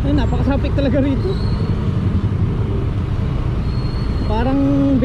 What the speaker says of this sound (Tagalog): Ay, napaka-traffic talaga rito.